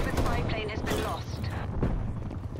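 Gunfire from a Gallo shotgun in Call of Duty Black Ops Cold War on the Nuketown map, loud sharp blasts amid dense game noise, with a voice speaking over the shots.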